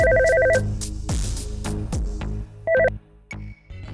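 A telephone rings in short repeated bursts of a two-tone electronic bell, loud and close, with other sounds and a brief gap between rings, during a Hindi drama scene.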